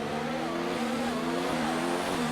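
An F1 2019 race car at Monza with a loud, steady engine drone that shifts pitch as it downshifts into a turn, heard close up and with no talk over it.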